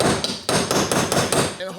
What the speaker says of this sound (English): I'm gonna take hammer, because I want to hit it right here.